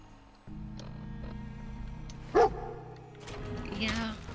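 In the Fallout 4 video game, a dog gives a single sharp, loud bark midway, with a low game hum and some whining or noise around it and a voice speaking nearby.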